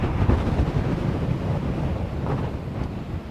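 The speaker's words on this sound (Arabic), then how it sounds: "منظر البحر بقى اهو" Wind buffets the microphone over a low rumble of sea waves along the Marsa Matruh coast in winter, a steady, close, blustery roar with no one speaking.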